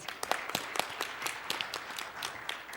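Sparse applause from a modest audience at a security forum, scattered individual claps at a fairly quiet level for a few seconds.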